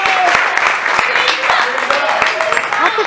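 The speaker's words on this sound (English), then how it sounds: "Give them a round of applause." An audience applauds after a scene in a play, producing scattered, uneven hand claps of moderate loudness that mix with background voices.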